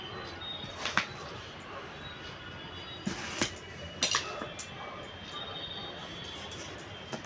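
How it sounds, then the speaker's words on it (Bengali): A knife cuts through a young, tender bottle gourd in a home kitchen. A few faint, sharp taps and clicks of the blade meeting the board are spaced out over quiet background noise. "তো আমি এই লাউটা কেটে নিই, দেখেন একদম কচি লাউটা"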